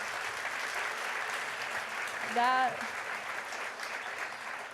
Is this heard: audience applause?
yes